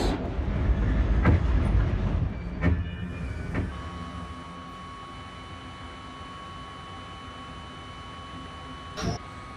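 A 10-car M subway train running on a viaduct, with a loud rumbling roll that fades into a steady hum and sustained whine, broken by a few sharp clanks and a late click.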